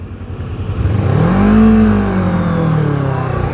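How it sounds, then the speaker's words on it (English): A motorcycle engine revs up as throttle is given, pitch climbing to a peak and then easing back down to a steady idle, close and loud, with no talking. "I'm gonna give it some throttle, man."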